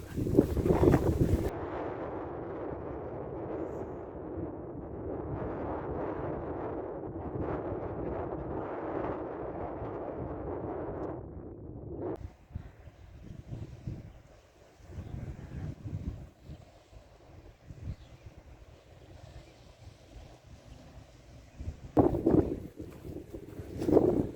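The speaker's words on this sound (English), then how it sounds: "It's pretty windy though." Strong wind buffets the microphone in heavy, roaring gusts for about twelve seconds, then eases to lighter rumbling before another loud blast near the end, on the River Thames shore between Northfleet and Grain.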